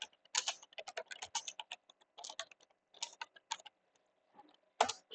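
A command is typed on a computer keyboard in quick irregular bursts of light clicking keystrokes, close and fairly quiet, with short pauses between runs.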